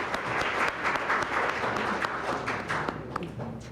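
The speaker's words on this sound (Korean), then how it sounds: "여러분 큰 박수로 환영해 주시기 바랍니다." Audience at a parliamentary seminar applauding to welcome a panelist from the Ministry of Education, a steady dense wash of clapping from a crowded room, continuous and moderately loud throughout.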